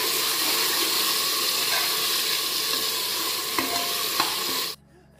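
Finely chopped tomatoes hitting golden-brown onions in a pan for tomato rice, giving a loud, steady sizzle with a few light stirring scrapes near the end before it cuts off abruptly.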